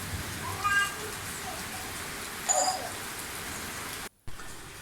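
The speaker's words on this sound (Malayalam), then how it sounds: "നല്ല മഴ വരുന്നുണ്ട്." Rain pours down steadily as a continuous broadband hiss, while a cat meows briefly a couple of times nearby.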